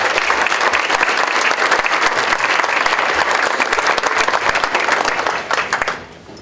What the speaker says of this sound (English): So please join me in a round of applause for Chris Ward.